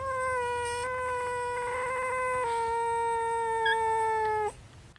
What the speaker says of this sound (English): Have you ever seen a constipated kitten before?